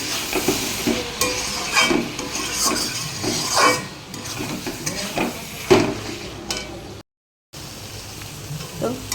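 A bottle gourd curry sizzles in a pan while a spatula stirs and scrapes it, giving a steady hiss with recurring clinks against the metal and a short gap of silence.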